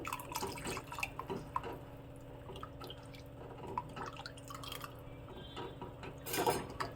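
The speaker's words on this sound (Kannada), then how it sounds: "ಈಗ ಬೇಕಾಗುವಷ್ಟು ನೀರನ್ನು ಹಾಕ್ಕೊತಾ ಇದ್ದೀನಿ." Water poured into a dish of thick Avarekalu batter while cooking, adjusting it to a pourable consistency, with soft trickling and dripping amid light kitchen clatter and a brief louder splash near the end.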